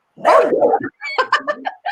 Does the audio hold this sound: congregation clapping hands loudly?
no